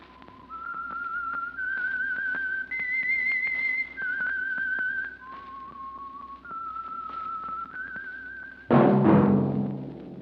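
A person whistles a clear, stepwise melody of sustained notes, then a sudden burst of brighter noise cuts in near the end.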